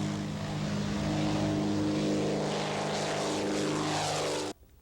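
A propeller airplane drones loudly and steadily with a strong engine hum, holding for about four and a half seconds before cutting off abruptly into near silence.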